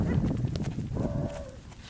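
Horses turned out into a paddock move about with clip-clopping hooves over steady outdoor rustle, and a short tonal call rises briefly midway.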